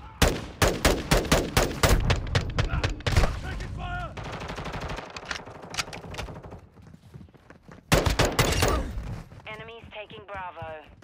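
Call of Duty: Modern Warfare II gameplay in hardcore mode brings loud bursts of rapid automatic gunfire and single sharp shots, close and punchy, with a quieter stretch of scattered in-game sounds in between.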